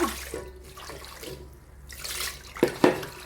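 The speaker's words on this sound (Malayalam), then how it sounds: "കുറച്ച് വെള്ളം കൂടെ ഒഴിക്കുക" More water poured into a starch mixture, a running, splashing flow with a couple of louder sloshes near the end, close up and with no talking.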